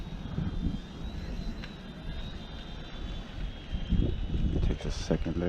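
Small Eachine E110 RC helicopter settling down in a one-button auto landing, its high, thin motor whine humming steadily near the mic while someone speaks over it.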